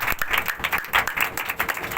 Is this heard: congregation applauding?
yes